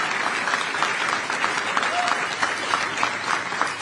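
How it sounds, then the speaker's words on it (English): A crowd at an Army Medical Center change ceremony applauds a singer's anthem performance, with steady, moderately loud clapping and faint voices mixed in. "How about a round of applause for that version?"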